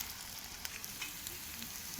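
Sweet potato and semolina sweets frying in oil in a pan, giving a steady, soft, close sizzle with faint crackles throughout and no talking.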